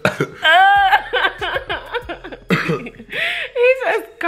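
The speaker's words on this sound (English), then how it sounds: "He just coughed in my mouth" A man coughs repeatedly and loudly up close in short harsh bursts, with throat-clearing sounds and a brief laugh mixed between them.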